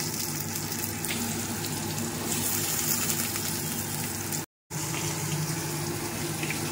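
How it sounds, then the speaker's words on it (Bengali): Potatoes frying in a pan with bay leaf and crushed garam masala, a steady close hissing sizzle that runs continuously and breaks off briefly near the end. "আলুগুলো ভাজতে বসিয়ে দিচ্ছি।"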